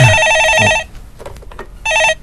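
A telephone rings with an incoming call to a Korean stock-market call-in show: two bursts of loud electronic trilling ring, with a quiet gap between them.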